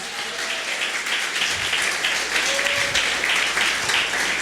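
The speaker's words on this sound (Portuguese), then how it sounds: "Dá uma salva de palmas para Jesus." A church congregation gives a round of applause for Jesus during a Portuguese-language sermon, a steady, moderately loud wash of many hands clapping with no talk over it.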